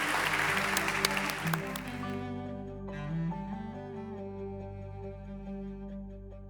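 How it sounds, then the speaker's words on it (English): An audience claps for a governors panel at a tenth-anniversary event, a dense burst of applause for about two seconds that quickly fades out as sustained tonal music takes over. "Please join me in a round of applause."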